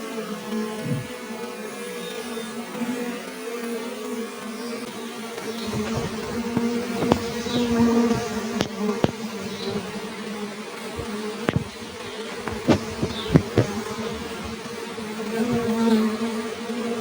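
Honey bees around a small nucleus hive during a queen's mating flight make a continuous low buzz with a steady drone, joined by louder passing buzzes and scattered outdoor knocks.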